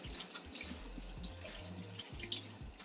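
Water runs from a tap onto a makeup beauty blender sponge while it is rinsed and squeezed, giving soft irregular dripping and splashing sounds at close range over a quiet background.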